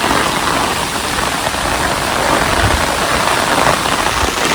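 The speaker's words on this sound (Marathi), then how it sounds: "आता परत वादळ पाऊस इलो असा. जोरात वारा सुटता" Loud, continuous stormy rain roaring down with heavy rushing wind in a forest, a thick wall of noise with no pauses.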